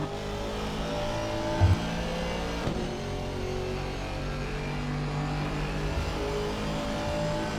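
Onboard engine of an Aston Martin GT4 race car with a Mercedes engine at Indianapolis, a steady loud drone with shifting rev pitch and a brief thump near the start.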